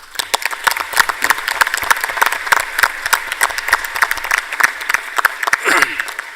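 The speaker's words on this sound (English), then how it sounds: "we hereby adopt the New Delhi Declaration 2016 by maybe clapping" A conference audience claps together to adopt a disaster-risk declaration at a New Delhi ministerial gathering, a dense burst of hand claps that rises and holds for several seconds, with a voice speaking over it.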